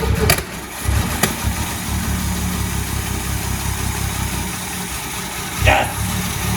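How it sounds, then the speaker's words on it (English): A classic Mercedes Fintail engine turns over and runs roughly at a low, rumbling idle close by. A sharper burst comes near the end. "She should fire up a bit."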